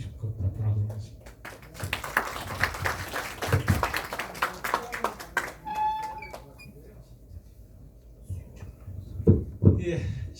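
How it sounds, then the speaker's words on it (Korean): Audience applauding after a lecture on renewable energy strategy, a burst of dense clapping rising then thinning out, with a speaker's voice heard before and after. "박수 다시 한번 부탁드리겠습니다"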